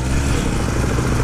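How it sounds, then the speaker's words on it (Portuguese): A mini motorcycle's small engine runs in a brief, loud, close burst of steady buzzing rumble, heard alone without voices. "Eduardo, não para de morrer a minimoto."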